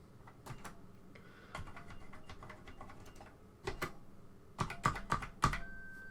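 Keys pressed one after another on a ZX Spectrum home computer keyboard, close up: quick uneven plastic clicks and taps that grow louder and more spaced toward the end, with no talking.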